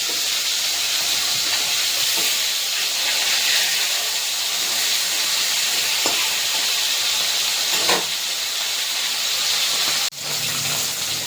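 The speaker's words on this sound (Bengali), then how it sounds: "মাছটাকে নিচে দিয়েছিলাম, একটু করে একটু হালকা লালচে করে ভেজে নেবো" Pieces of live katla fish frying in hot oil in a pan, a loud, steady broadband sizzle and hiss that continues unbroken, with a brief dip near the end.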